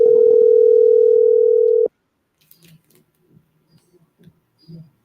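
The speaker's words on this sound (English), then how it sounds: "So he ain't picking up the phone." An unanswered phone call rings out as one loud, steady ringback tone lasting about two seconds, then near silence with only faint clicks and small sounds on the line.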